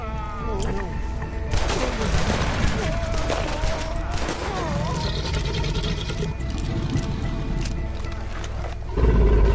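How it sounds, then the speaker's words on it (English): In Red Dead Redemption 2 a big alligator attacks during a loud fight, its roars and growls mixed with bursts of gunfire and shouting voices. "Shit, that is one big old gator."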